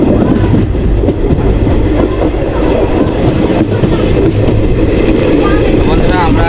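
A moving train running from Chaurigachha to Katwa rumbles loudly and steadily, with a dense low roar and rhythmic wheel clatter throughout, and no pause.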